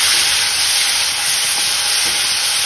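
Chopped onion, garlic, ginger and tomato frying loudly with toasted cumin in a pan, a steady broadband hiss of sizzling that holds unbroken and close throughout, with no talk.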